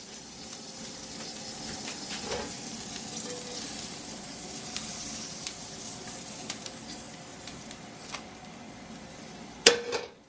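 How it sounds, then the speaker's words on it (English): Sesame oil heating in a pan over high heat ahead of a Korean chijimi pancake, giving a steady faint sizzle and crackle with scattered small pops and a sharper clink near the end. "Put a pan under high heat and add some goma oil. Let the oil get hot."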